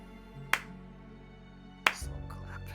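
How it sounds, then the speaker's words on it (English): A slow clap during a tabletop Dungeons & Dragons session: two sharp, close hand claps spaced over a second apart, with a low steady background hum and no talking. "Slow clap."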